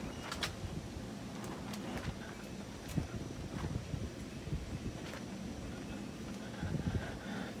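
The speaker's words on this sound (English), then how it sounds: "wind's starting to pick up a little bit out here today" Outdoor wind gusting around a Blackstone griddle being lit for steak fajitas, a steady low rumbling buffet with faint scattered clicks and knocks on top.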